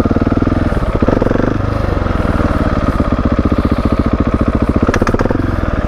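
A motorcycle engine revs hard and loud close by during a first wheelie attempt on a gravel-strewn road, with a rapid, throbbing exhaust pulse that rises and falls before settling, heard alone without talk.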